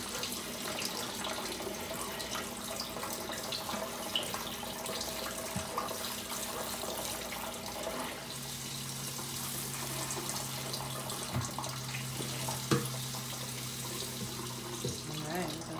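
Steady water running and splashing as a houseplant is watered indoors, a continuous soft pour lasting throughout at moderate level, with faint speech-like murmur underneath.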